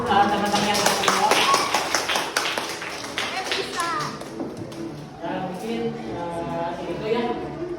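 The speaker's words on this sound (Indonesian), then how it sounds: "Beri tepuk tangan dulu untuk teman-teman yang berjawab." Classroom applause for students who answered, brisk clapping from a group of children mixed with chatter and a teacher's voice, loud and close, easing off partway through.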